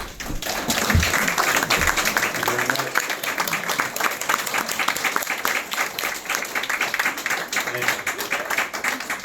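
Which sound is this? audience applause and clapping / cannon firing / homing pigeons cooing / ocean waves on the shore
audience applause and clapping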